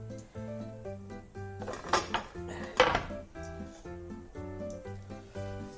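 Chopped onion, green chilli and coriander are stirred together for fish egg pakora, giving a few soft clinks and scrapes of utensils against a bowl beneath quiet background music.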